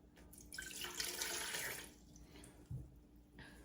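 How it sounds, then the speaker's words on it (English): Warm tap water pours into a Zojirushi bread machine pan in a home kitchen, a steady splashing stream for a second or two that then fades, with a soft clunk near the end. "tap warm water."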